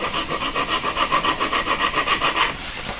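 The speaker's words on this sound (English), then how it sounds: "I'm filing straight down to it." A needle file rasps straight down through the vertical join of a pendant hanging ring, a steady run of about a dozen quick, even back-and-forth strokes, close and clear, before stopping at the end.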